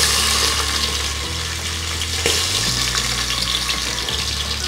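Loud, steady crackling and sizzling of hot oil as chilies fry, with a dense hiss and no voices.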